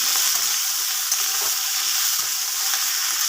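Taro stolons with small fish and salt stirred in a pan, giving a steady loud sizzle of frying with soft scraping strokes of the spatula running through it, no voices.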